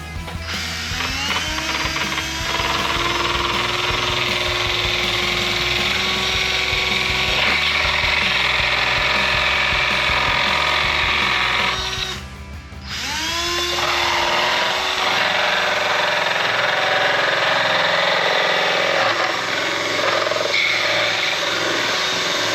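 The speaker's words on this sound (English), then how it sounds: "I'm gonna go ahead and cut this out so we can get some more airflow coming into the airbox" A power cutting tool whines and grinds steadily through the plastic airbox of a dirt bike, cut open for more airflow, with a brief pause midway before the cutting resumes, loud and close.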